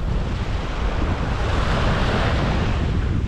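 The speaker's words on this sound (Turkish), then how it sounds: "Bu arada rüzgar denizden esmeye başladı." Sea wind blowing steadily onto the shore during bluefish fishing, a loud continuous roar of gusts buffeting the microphone, blended with surf, no voices.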